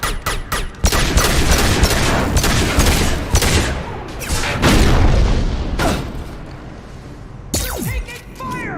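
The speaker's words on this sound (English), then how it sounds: "Taking fire! They've seen us." Heavy bursts of gunfire and booming blasts in an animated sci-fi space battle, loud, dense and sustained with brief gaps, close up throughout.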